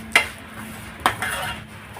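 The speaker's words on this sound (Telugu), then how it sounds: "సేమియాను కూడా చక్కగా దోరగా వేయించాలి" Vermicelli roasting in a pan is stirred with a metal spoon, giving two sharp scraping clinks about a second apart over a faint sizzle, loud and close.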